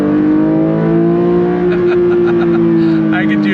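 A 2024 Porsche 911 S/T engine revs as its six-speed manual shifts, a loud steady tone that rises and falls slightly, with a person talking over it.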